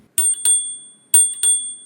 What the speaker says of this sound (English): The bell is simple. It's integrated with the left brake handle and has a nice satisfying ring.